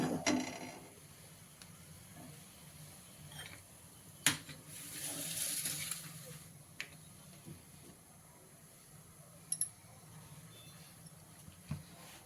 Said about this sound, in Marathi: आता इकडं आपण कढई ठेवूया गॅस चालू करून इकडं फोडणी करून घेऊ